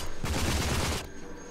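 A rapid burst of AK rifle fire in the shooter game RAGE, roughly a second of close, fast repeated shots, then the noise falls off into a quieter tail.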